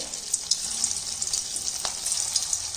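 Round poha (flattened rice) balls frying in hot oil over a medium flame, a steady bright crackling sizzle with small pops, moderately loud and alone.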